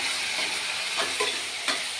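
Onions sizzle in a pan for egg keema masala curry, a dense, steady hiss with a couple of soft stirring scrapes, close and continuous over about two seconds.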